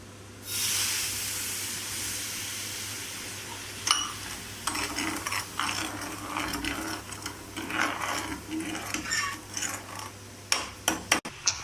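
Sugar syrup for a pineapple sweet boils in a pan with a continuous bright hiss, then a spoon stirs it, making quick irregular metallic clinks and scrapes that end in several sharp taps.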